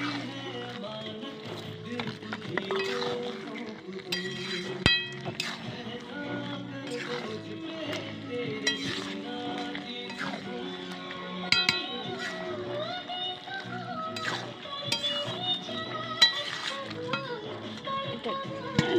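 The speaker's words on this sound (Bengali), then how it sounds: "চলো ভালোভাবে নেড়ে দিই" A spoon scrapes and taps around a pot of curry seasoned with cumin and garam masala, giving irregular metallic clinks and scrapes while someone talks over the stirring.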